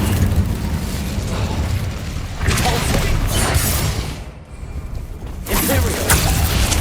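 A fire spell cast in the video game Hogwarts Legacy: dense, roaring bursts of flame and impact blasts layered over constant game noise. They swell and fade in waves with a brief quieter gap, loud and close.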